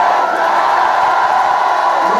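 A church congregation at a revival service shouts and calls out together in one loud, continuous roar of voices that fills the room, with no single voice standing out.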